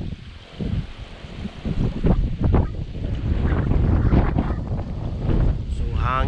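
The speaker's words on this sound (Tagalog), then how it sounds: "Grabe kahangin diri guys, bukid na kay mi." Strong wind buffets the microphone on a mountain, a rough, continuous rumbling roar with gusting swells throughout.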